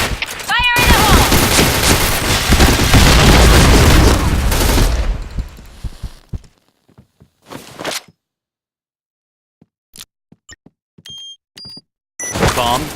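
Loud bursts of gunfire and explosions in the Point Blank video game, with a dense blast-like roar lasting several seconds, then a sudden drop to near silence broken by scattered short clicks, beeps and a few sharp shots.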